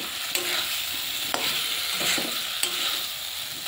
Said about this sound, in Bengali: ভেজে রাখা আলুটা দিয়ে ভালো করে কষিয়ে নেব।